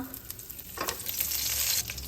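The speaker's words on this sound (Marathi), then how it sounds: "आपल्याला नेहमीसारखी फोडणी करून घ्यायची आहे" A Marathi-style tempering of mustard seeds, cumin and curry leaves sizzles in hot oil in a pan. A close, steady frying hiss swells as ingredients go in and are stirred, with a brief scrape of stirring.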